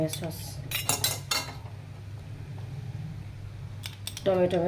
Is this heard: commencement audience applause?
no